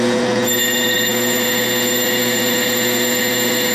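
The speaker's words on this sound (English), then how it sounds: "So now I'm going to change tools and put a little bit of a chamfer here." An Atlas 618 metal lathe turns a dog plate while a tool cuts a chamfer, producing a loud, steady mechanical hum with a high, constant whine and no talking.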